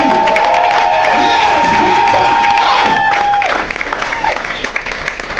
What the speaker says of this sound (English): Let us give them a round of applause because they are playing.